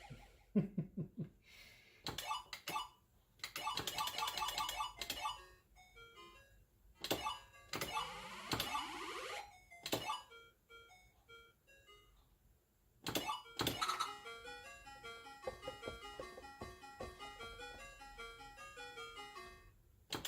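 Quiet Japanese lullaby-like arcade game music plays on an Arcade1up RetroPie cabinet, with chiming, bell-like electronic notes in short melodic bursts separated by pauses and then a longer continuous tune.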